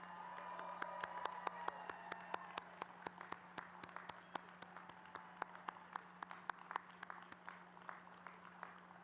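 Sparse applause for a university humanities and social sciences graduating class, scattered individual claps at an irregular rhythm, faint and distant over a steady low hum.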